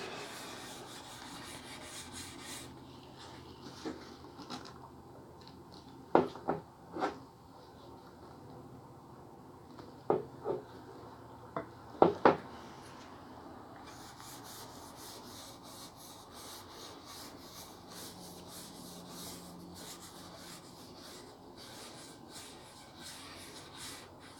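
A cloth rubbing wipe-on poly finish onto guitar wood, heard as quiet, steady soft friction with a few sharper scuffing strokes in clusters, close and faint with no talking.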